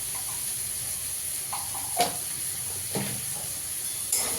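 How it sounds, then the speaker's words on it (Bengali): Ground spices stirred into a hot pan of oil for a Bengali egg tadka, a soft steady sizzle with a few light scrapes and clinks of a spoon against the pan. "ভালো করে একটু কষিয়ে নেবো।"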